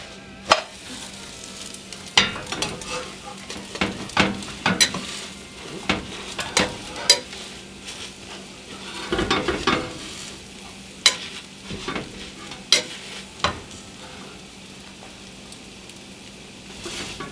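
Two hamburger patties fry in a pan with a steady sizzle, broken by repeated sharp scrapes and knocks of a spatula flipping and pressing them, close and prominent, with no talk.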